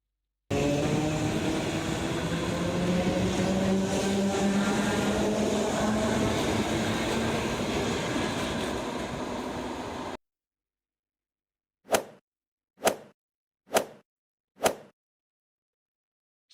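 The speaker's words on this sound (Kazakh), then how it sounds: "Бұл жолаушылар пойызы." A passenger train passes with a steady loud roar and rising whine of rolling cars for about ten seconds, then abruptly stops, followed after a pause by four short separate bursts of sound.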